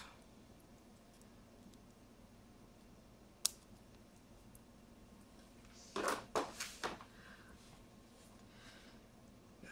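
Small snips from cutters trimming the wire leads of a new volume wheel for a Game Boy Advance SP, one sharp click followed by a quick cluster of close crisp snaps in a quiet room.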